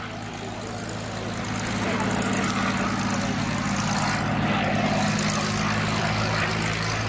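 A Spitfire or Hurricane warbird at the Shoreham Airshow drones loudly and continuously, its propeller engine swelling slightly in the middle, with a voice faintly present underneath.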